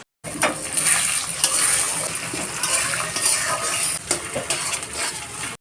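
Eggs are stirred into egg fried rice in a hot pan, with continuous sizzling frying and repeated scraping and clinking of a utensil against the pan, close and fairly loud.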